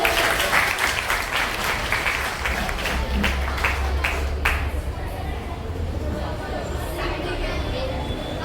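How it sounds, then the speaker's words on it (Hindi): An audience at a school Hindi Diwas celebration applauds loudly, with dense clapping that gradually thins out, and some crowd voices mixed in. "जोरदार तालियों के साथ अभिनंदन कीजिए।"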